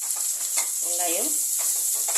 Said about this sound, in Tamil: கொஞ்சமாக வதங்கட்டும், ஒரு பாதி இது வதங்கட்டும்.